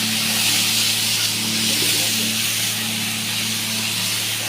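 Pumpkin pieces fry in a hot tempering of oil for chutney, giving off a steady close hiss and sizzle over a constant low hum, with no break across the whole stretch.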